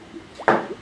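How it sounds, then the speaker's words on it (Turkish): Melon juice for a smoothie, a single short splashy plop as the liquid drops in, close and brief, preceded by a faint wet swish. "Kavun suyunu atacağım."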